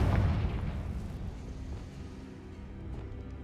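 A Confringo fire spell bursts in the Hogwarts Legacy video game, a loud booming blast at the start that rolls off into a low rumbling tail over a few seconds.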